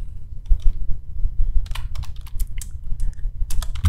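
Fingers type a search into Google on a computer keyboard. Key clicks come close and clear in irregular bursts over a low background hum.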